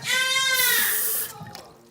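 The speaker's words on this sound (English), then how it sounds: "you're gonna wanna add a little bit of water" Water poured into blended onion for a Mexican chicken milanesa marinade, a short steady splashing pour that rises in pitch as the container fills, then tapers off, close and clear.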